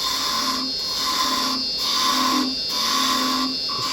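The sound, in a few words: woodturning lathe carbide chisel cutting a wooden finial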